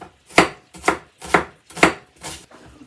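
Half an onion being chopped with a knife on a cutting board, five firm evenly spaced chops about half a second apart, close and crisp in a quiet kitchen.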